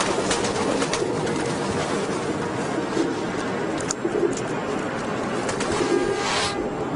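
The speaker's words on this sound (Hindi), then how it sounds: "ये मेरे कबूतर हैं।" Pigeons coo softly and repeatedly in a steady low murmur, close by, over a continuous background hiss, with no talk.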